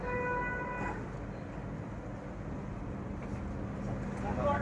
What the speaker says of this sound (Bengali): সব হর্ন মারছে।